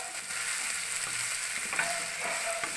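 Gondhoraj chicken masala is stirred in a hot pan, with steady close sizzling and frying and the scrape of a spoon mixing through it, no talk.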